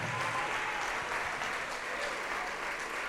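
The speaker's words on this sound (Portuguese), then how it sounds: "vamos aplaudir ao Senhor Jesus por cada vida que está chegando." A church congregation applauds, a dense, steady clapping that fills the room evenly for the full few seconds without any break.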